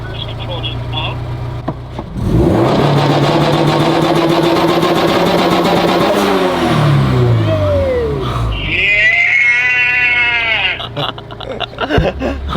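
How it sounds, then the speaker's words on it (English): A turbocharged Scion FR-S engine held on a two-step launch limiter with the clutch in and throttle floored, droning loud and steady, then the revs fall away and a high whining note rises near the end, with people talking over it. "You're gonna clutch it, floor it, and then tap the cruise control to up."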